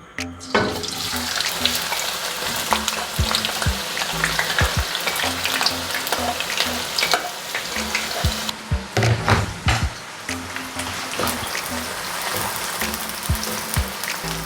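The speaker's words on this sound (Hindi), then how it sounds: "ऑयल तकरीबन हमारा गर्म हो गया। अब इसमें प्याज डालेंगे।" Onions frying in hot oil in a kadai over a gas flame, a loud continuous sizzle with scraping stirs and occasional clatters of a spoon against the pan, close up and with no talking.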